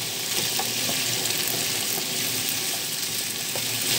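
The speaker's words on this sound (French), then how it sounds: "Alors je mélange pour que ça ne brûle pas." Potatoes fry in a pan with paprika and sizzle loudly and steadily while a utensil stirs them, with a few soft scraping clicks over the constant crackle.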